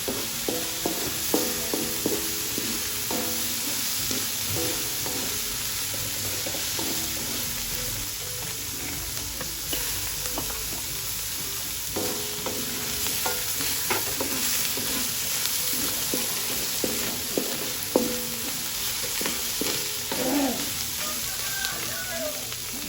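Mushrooms for a carbonara sizzle steadily in a hot pan while a utensil scrapes and stirs in repeated bursts, with a loud constant frying hiss and faint speech underneath.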